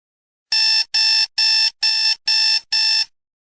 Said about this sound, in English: alarm clocks go, they have a certain beep